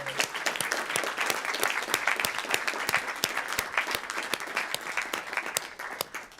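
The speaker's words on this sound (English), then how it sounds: "let's give them all a big round of applause" At a Walnut Creek city council meeting, an audience applauds the youth commission, with many hands clapping in a dense, steady patter that holds for several seconds, punctuated by a few sharper nearby claps.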